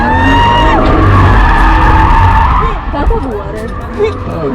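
A car drifts in tight donuts on a drift track, its engine roaring loudly with tyres skidding and squealing, while crowd chatter and laughter mix in near the end.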